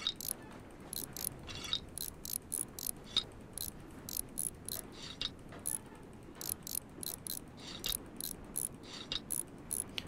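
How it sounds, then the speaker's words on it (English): Ratcheting clicks of bolts being tightened in the video game Train Mechanic Simulator 2017, coming in quick repeated bursts of mechanical ticking separated by short gaps, close and moderately loud. "And the final bolt is going in."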